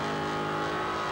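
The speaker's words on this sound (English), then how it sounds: "Listen to that little centrifugal supercharger having a bit of a whine in." A burnout car with a centrifugal supercharger at the Summernats 18 burnout eliminations gives a brief, steady engine drone with a thin supercharger whine running through it, heard fairly faint and at a distance.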